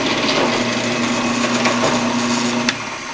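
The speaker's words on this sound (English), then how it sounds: "drill all the way straight on through" A drill runs steadily through a wooden block with a number 10 bit, a continuous whirring grind with a constant hum, ending in a brief sharp burst as the bit breaks through.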